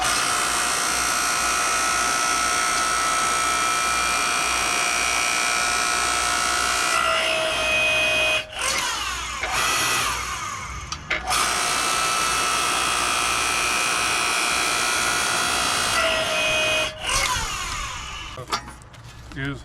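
A small Harbor Freight log splitter works through extremely hard wood, giving a steady loud mechanical whine and drone, broken twice by short cracking, creaking bursts as the rock-hard log gives way.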